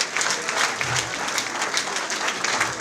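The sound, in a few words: applause from the audience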